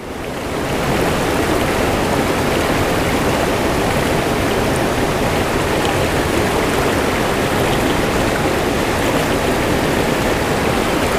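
Rushing water from a huge river where people fish for smallmouth bass, a steady, loud, unbroken wash that stays constant throughout with no voices.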